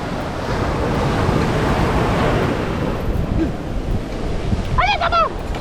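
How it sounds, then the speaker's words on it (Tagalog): Sea waves wash onto a beach at a resort in Mati, Davao Oriental, a loud continuous surf roar with wind buffeting the microphone and a brief voice near the end. "Kitlin, dili mato dito kay madala ka ng dagat."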